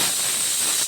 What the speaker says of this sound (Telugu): గ్యాస్ వెలిగిస్తానండి.